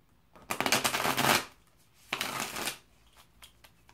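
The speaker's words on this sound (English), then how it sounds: "Usually I only do 3 shuffles, but I'm feeling to do another one this time." Two bursts of cards being riffle-shuffled, crisp rapid flutters close by, followed by a few soft taps and clicks.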